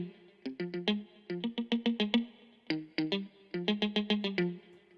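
A clean electric guitar plucks quick rhythmic phrases with the amp emulation switched off, sounding thin and direct, in short bursts separated by brief gaps, played alone at moderate volume.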